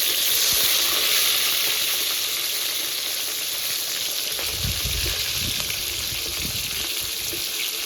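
Fish pieces fry in hot oil, a loud continuous sizzle close by, with some stirring or clatter about halfway through and no voices.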